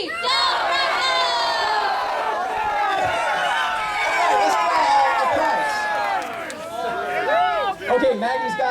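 A hometown crowd at a marching band pep rally yells a loud, sustained cheer together, many voices shouting and whooping close by for several seconds before it breaks into scattered cheers.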